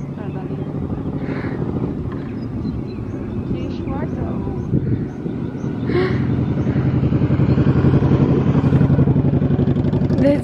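A motorcycle engine drones past at moderate distance, its rumble building toward the end, with people talking over it.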